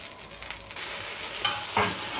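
Uttapam batter cooking in oil on a hot griddle, a soft continuous sizzle with a couple of brief scrapes, close and alone.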